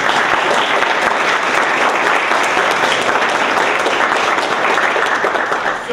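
A large audience at an inter-campus speaking competition claps loudly and steadily for the full six seconds, with no talk.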